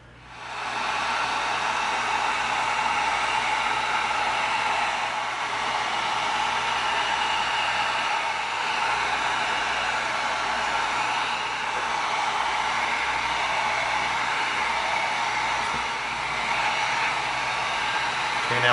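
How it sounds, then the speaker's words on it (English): A heat gun blows steadily on EVA foam while a pistol prop is built, sealing the foam and opening knife-cut creases; a loud, continuous hiss-roar of air runs nearly unbroken, close by, with no talking. "we're going to seal this with our heat gun"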